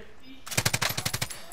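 A short, loud burst of assault rifle fire in the Firewall video game, roughly ten rapid evenly spaced shots ringing out close up after a moment of quiet, with no talking.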